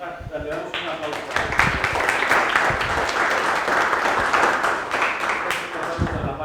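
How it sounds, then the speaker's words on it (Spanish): An audience at a university lecture on soft matter physics applauds after the talk, steady dense clapping throughout, fairly close and sustained without pause. "Le damos un aplauso."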